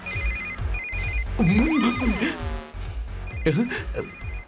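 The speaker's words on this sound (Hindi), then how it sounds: "इस वक्त दीदी का फोन।" A phone ringtone chirps in repeated beeping bursts while a voice speaks and sighs over it, close by.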